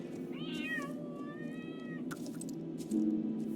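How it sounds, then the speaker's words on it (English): A giant cat in the horse-riding video game Star Stable Online lets out a clear, rising-and-falling meow followed by a longer drawn-out mew, heard alone against a soft game background. "Oh my god, is that a giant cat?"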